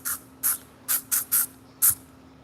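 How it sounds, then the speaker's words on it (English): OFF insect repellent spray can fired in six short, sharp hissing bursts, irregularly spaced, close and alone over a faint steady hum. "I'm gonna have to spray a little bit"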